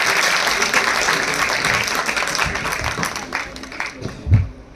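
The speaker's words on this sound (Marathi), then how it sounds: "जोरदार टाळ्यांचा कडकडाट व्हायला हवा" Applause from an audience at a school website inauguration ceremony, a dense steady clapping that holds strong for several seconds and then slowly thins, with a thump near the end.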